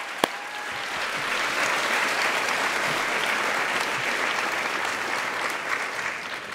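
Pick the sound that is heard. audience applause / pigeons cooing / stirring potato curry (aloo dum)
audience applause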